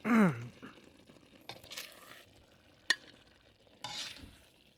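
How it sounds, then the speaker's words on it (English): Shrimp with egg sauce stir-fried in a pan, with scraping stirs and bursts of sizzle coming and going over a few seconds, one sharp clack of the utensil midway, no talk. "This is a stir-fry shrimp with egg sauce."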